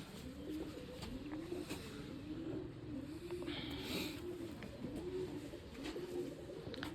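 White pigeons, males and females, coo in steady repeated rolling phrases close by, several calls in a row over a soft background hum with no talking.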